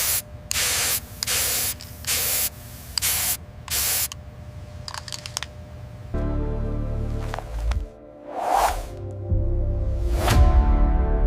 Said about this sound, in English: Shine spray.